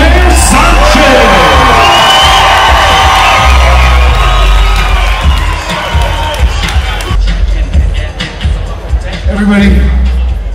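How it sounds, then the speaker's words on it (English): A loud crowd at an adaptive mixed martial arts event cheers, whoops and yells continuously with clapping mixed in, a dense roar that stays near and powerful throughout, with voices shouting over it. "ladies and gentlemen, how about a big round of applause for Diego Nightmare Sanchez!"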